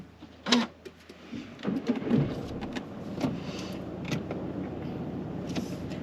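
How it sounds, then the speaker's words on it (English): A car is started during a driving lesson: a brief click and starter whir, then the engine catches and settles into a low, steady idle heard from inside the cabin. "Okay, let's turn on the car as well."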